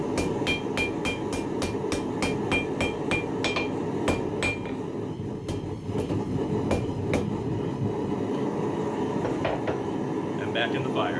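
Glowing metal struck on the flat of an anvil during night forging, a fast run of sharp ringing hammer blows that thins into spaced strikes, over a continuous rumbling background with voices.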